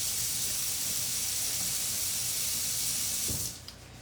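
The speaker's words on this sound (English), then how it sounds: "Final rinsing off my hands." A kitchen tap runs in a steady, close hiss of water as hands are rinsed, stopping abruptly near the end with no one speaking.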